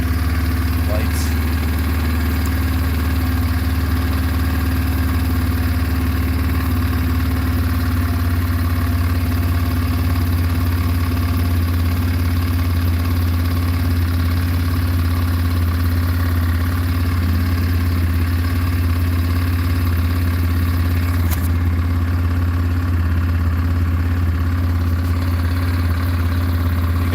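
A carbureted car engine idles after a choke start, a steady, low, even rumble that holds without change for nearly half a minute.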